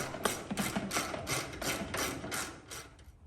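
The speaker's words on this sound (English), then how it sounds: "Going to temporarily remove the bolt off of the rear brace, and that'll get put back on in a second." Ratchet wrench loosening a bolt on the rear brace of a John Deere 1025R compact tractor cab, with a quick, close series of about ten crisp clicks fading toward the end.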